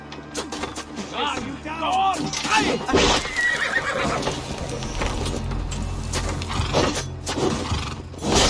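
Horses neigh and whinny over hoof clip-clops in the video game Assassin's Creed Valhalla, with voices talking and a busy, layered background, fairly loud throughout.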